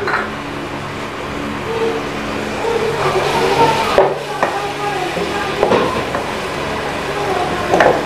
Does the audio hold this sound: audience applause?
no